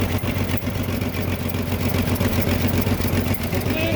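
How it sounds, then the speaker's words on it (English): A 1953 GMC five-window pickup's inline six-cylinder engine idles steadily close by, a continuous rumbling run with a slight exhaust leak. "Now we can hear her run. Of course, under the hood is its inline 6-cylinder."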